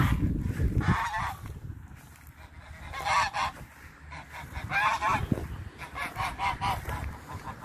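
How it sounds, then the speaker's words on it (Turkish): Geese on a rural Turkish farm honk in loud, ragged bursts, several birds calling together in repeated clusters at close range, with quieter gaps between volleys. "Kazlar."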